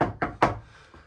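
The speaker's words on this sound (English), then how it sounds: "Solid doors. When you close them," A solid interior door in a 2007 Monaco Signature Castle IV motorhome swings shut, giving three quick, close, muffled thuds about a fifth of a second apart before a short quiet tail.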